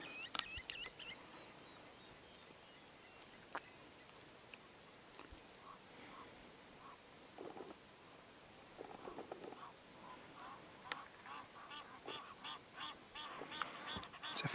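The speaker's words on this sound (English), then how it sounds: "Egyptian goose or geese" Egyptian geese honk in the African bush, faint and distant, a few scattered calls early and a quicker run of honks near the end over quiet outdoor ambience.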